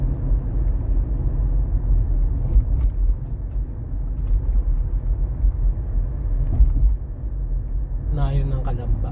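Road traffic on the SLEX expressway in the Philippines, heard from inside a moving vehicle as a steady low rumble and road noise, with people talking briefly in places.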